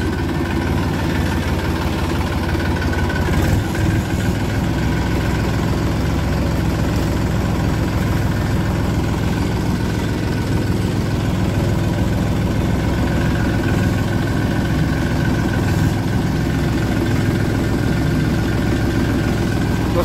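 A tractor engine pulls a loaded trolley slowly in low gear, a loud, continuous low rumbling drone with steady vibration throughout, no pauses or speech.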